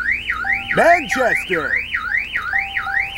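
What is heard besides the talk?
car alarm going off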